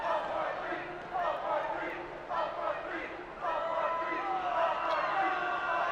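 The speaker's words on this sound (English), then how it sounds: "South crowd chanting 0 for 3" A high school basketball crowd in the SM South section chants rhythmically from the stands during a boys game between SM North and SM South, a steady, echoing group chant blended with gym noise.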